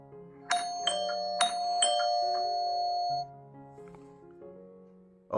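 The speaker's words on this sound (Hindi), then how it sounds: "तब मेरे घर की डोरबेल बजी" A home doorbell chimes as a sound effect, several bright ding-dong tones ringing out and fading, clear and alone with no talk.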